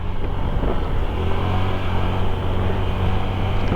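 A motorcycle engine revs on a highway stop, a loud, continuous rumble that swells slightly with the throttle, heard close with traffic-like drone and no talk.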